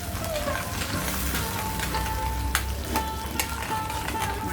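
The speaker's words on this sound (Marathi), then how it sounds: "चांगला परतून घेते." Minced green peas sautéing in a pan for a spicy pea keema give off a steady, gentle sizzle, with occasional clinks of a utensil stirring.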